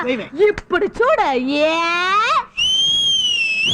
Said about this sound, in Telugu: నేను ఈల వేస్తే ఎంత మంది వస్తారో తెలుసా?